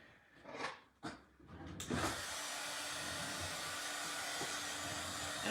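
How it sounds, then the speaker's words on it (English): A hair dryer set to cool air, used on a waxed craft transfer over wooden cutouts, starts with a couple of short clicks and puffs, then runs as a steady close whooshing blow to the end. "I'm drying with cool air because I don't want the wax to melt."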